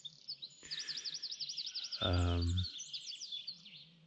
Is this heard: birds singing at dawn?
yes